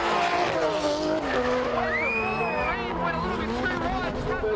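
A drift car at the Australian Drifting GP spins out after clipping a tyre wall, its tyres squealing in long wavering tones over a steady engine roar, with crowd babble and commentary underneath.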